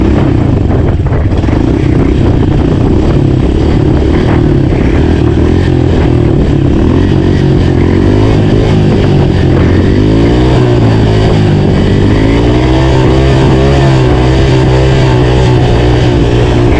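A pit bike's small engine revs hard and continuously while the rider holds a wheelie, a loud, close, buzzing drone that rises and falls in pitch over the whole stretch.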